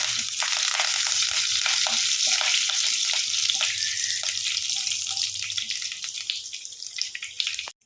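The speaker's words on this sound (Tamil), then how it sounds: "வெந்தயம் கடுகு எல்லாமே நல்லா பொரிஞ்சிருச்சு" Fenugreek, mustard seeds, dried chillies and curry leaves frying in hot oil, a loud close crackling sizzle with small pops and light stirring that slowly eases toward the end.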